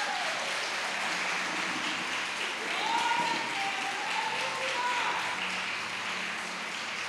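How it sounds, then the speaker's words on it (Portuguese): A congregation at a Portuguese-language Christian service applauds in a steady, sustained burst of clapping that fills the room, with a voice faintly underneath. "Manda um aplauso para Jesus."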